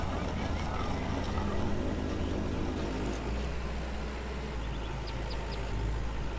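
A tractor engine in the Lumberjack's Dynasty game runs steadily at a low rumble for the whole stretch, with a slight shift in tone partway through and faint higher tones above.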